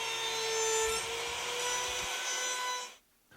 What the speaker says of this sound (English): I then use a 1/4 inch radius roundover bit in a small router to round the edges of the semicircular notches